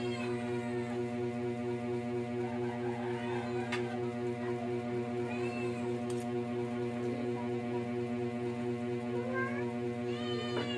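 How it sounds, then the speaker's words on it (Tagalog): Cats meow faintly in a home, their short chirping calls scattered over a steady low hum. "Bigyan mo muna itong mga pusa para di nang gugulo sa atin."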